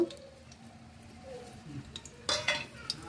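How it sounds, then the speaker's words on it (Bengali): Mustard seeds and vegetables sizzling in oil inside a pressure cooker, a soft steady fry with stirring and a louder burst of crackling and clattering near the end. "ওর মধ্যে একটু তেল দিয়ে দিচ্ছি সর্ষে এবার আমরা এগুলো কুকারের মধ্যে দিয়ে দেব"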